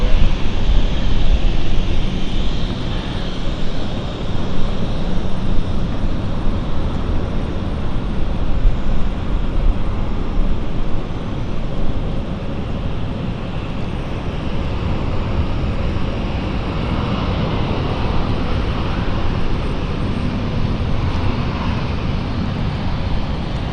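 Airliner such as an Airbus A320 at London City Airport, a steady broadband engine roar that holds loud and continuous throughout, swelling slightly at the start with no talk.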